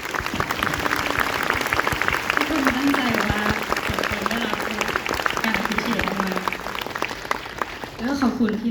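Fans at a farewell fan event applaud the staff team with steady, dense clapping while a voice speaks over it, rising at moments.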